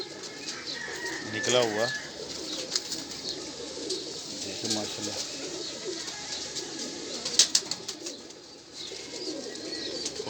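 High-flying pigeons coo softly amid steady outdoor background noise, with a few brief wing flaps, while people talk nearby.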